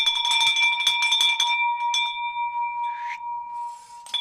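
A hand bell rung in celebration of a closed wholesale real estate deal, a quick burst of bright, clanging strikes at the start, then a long ringing tone fading out, loud and close.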